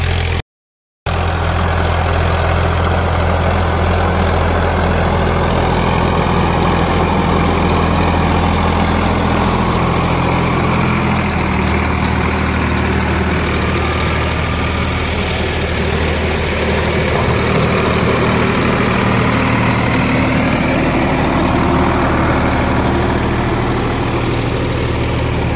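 Tractor engine running steadily while ploughing a field, a continuous loud low rumble with a constant drone throughout, after a brief dropout at the start, with no talk over it.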